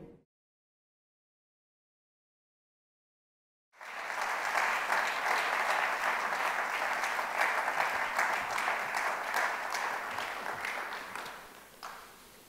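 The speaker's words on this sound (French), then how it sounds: "Merci pour les applaudissements" Sustained applause from the audience at an evening talk on democracy and the last presidential election. It starts after several seconds of silence, stays dense and steady for about eight seconds, then tapers off.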